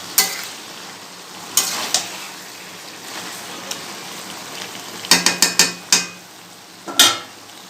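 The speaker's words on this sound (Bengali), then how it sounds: "একটু লবণটা দিয়ে দিই। ভালো করে নেড়ে দিই।" Spiny gourd (kakrol) frying in a pan and being stirred with a utensil, a steady sizzle beneath scattered scraping knocks that cluster into a quick run of strikes near the end, close up with no talking.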